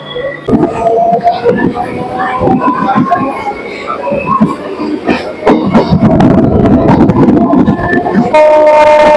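A local train runs on the Bongaon–Ranaghat line, its loud rumble and clatter filling the ride, with a horn-like tone near the end and voices nearby.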